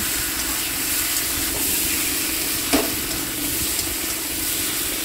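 Boiled potatoes with meat masala sizzle steadily in a hot pan while being stirred, a continuous close frying hiss with soft scraping and one brief clatter partway through.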